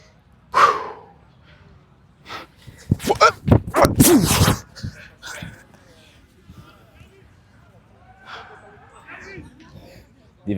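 Loud, strained grunts and exhalations from a lifter grinding through heavy max-attempt squat reps, several short forceful bursts clustered together, followed by quieter breathing and murmured speech.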